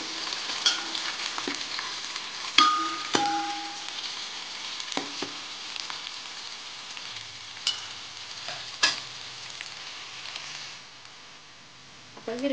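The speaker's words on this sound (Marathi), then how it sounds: "थोडासा कढीपत्ता, कांदा टाकलाय मी. चांगला लाल होऊ द्यायचा कांदा." Chopped onion and curry leaves fry in a pan with a steady sizzle, with occasional stirring scrapes and clicks close by and a faint voice now and then.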